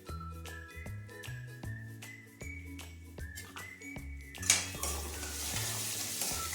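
A spoon stirs a peanut, garlic and green fenugreek paste in a pan with rhythmic scraping strokes and metallic clinks, a light sizzle rising in the background, no voices.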